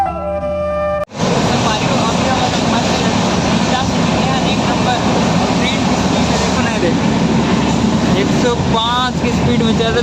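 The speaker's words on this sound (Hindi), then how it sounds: "देखो ट्रेन हमारा मस्त को चालू हो गई धीरे धीरे मस्त" Loud, steady rumble of a train running at speed, broadband and continuous after a brief quieter start, with a person talking over it at times.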